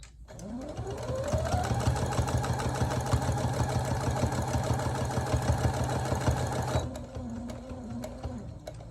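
A sewing machine runs steadily for several seconds as it backstitches fabric for a burrito-style pillowcase, a loud close rattling whir that spins up, holds, then drops to a softer idle hum.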